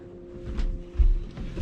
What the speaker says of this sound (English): So I'm in the engine room